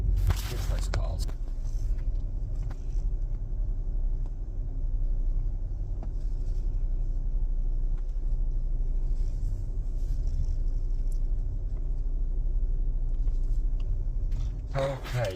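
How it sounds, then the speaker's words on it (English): Cars passing on a road near roadworks, a continuous low engine and tyre rumble that holds steady throughout, with louder whooshes of passing traffic at the very start and end. "Here's those cars."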